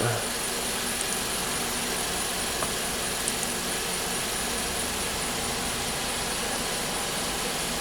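A 2014 VW Jetta GDI turbo engine with an intermittent misfire and low power, idling as a steady, dense drone heard up close and continuous throughout, without any talk.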